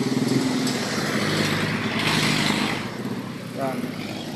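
A Microbike 125 motorcycle engine runs at a steady idle close by, a low rumbling putter beneath someone talking throughout.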